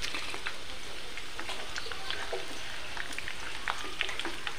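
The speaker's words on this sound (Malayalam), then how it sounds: "നമ്മുടെ ചിക്കൻ ഇവിടെ നന്നായിട്ട് ഫ്രൈ ആയിട്ടുണ്ട്." Chicken dry-frying in a pan, with a steady, dense sizzle and crackle and scattered pops spread across the whole stretch.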